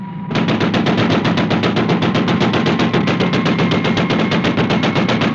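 Loud, sustained machine-gun fire from the Supercar TV show, a rapid unbroken burst of shots that starts abruptly and continues steadily without pause.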